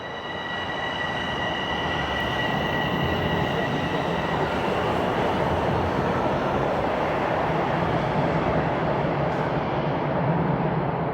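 Toronto subway train at Lawrence West Station, heard as a steady loud rumble of rail cars with faint high wheel squeal tones, continuous throughout at close range.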